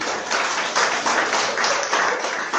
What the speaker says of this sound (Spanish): ¿Podemos un aplauso a Cristo?